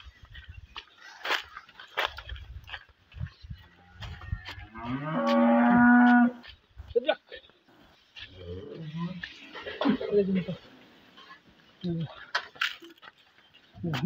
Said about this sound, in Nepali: गाईहरू कराएर हुन्छन्